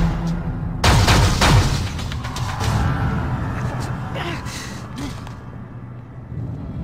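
Gunfire in a Freelancer video game cutscene bursts out loud and close in a sudden volley, followed by lingering rumbling booms and whooshes while voices talk over the action.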